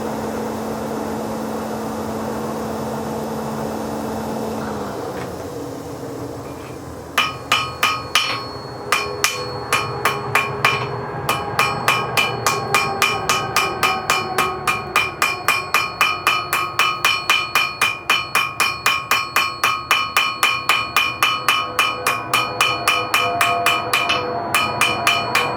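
Mild steel nails heat-forged by hand, with a long, steady run of rhythmic, ringing hammer blows on metal, loud and close, starting after a stretch of low workshop hum and continuing nearly without pause.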